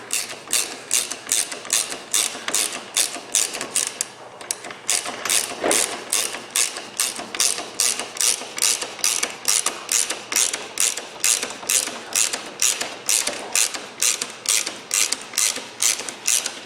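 A ratchet wrench snugs down a nut on a Ryfab windshield mount for a 2015 Polaris RZR 900 Trail, clicking in fast, steady rhythmic bursts up close, with one brief pause partway through.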